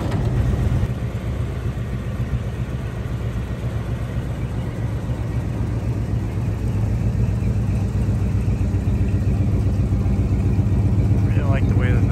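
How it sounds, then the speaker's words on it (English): A 1974 GMC Suburban with a 454 big block engine idles loudly and steadily through its exhaust pipes, a deep continuous rumble that keeps going for the whole stretch. "I really like the way that them exhaust pipes sound."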